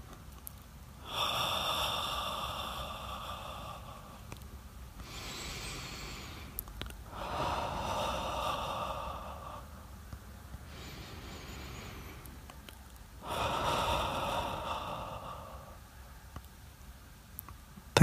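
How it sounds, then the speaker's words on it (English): Slow deep breaths, three long breathy inhales or exhales spread evenly apart with quieter pauses between, close and fairly loud, no speech. "So deep breath."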